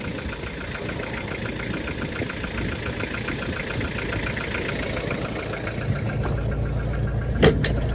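A Toyota Hiace van's 5L diesel engine idles steadily up close, a loud, even rumble with a faint rhythmic knock throughout and one brief sharp click near the end.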